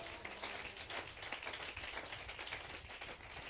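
Church assembly applauding the Lord, a dense continuous wash of many hands clapping at moderate distance, steady throughout with no talk.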